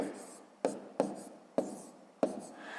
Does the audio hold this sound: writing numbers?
yes